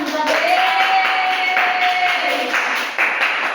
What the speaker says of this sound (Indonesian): Iya betul, tepuk tangan.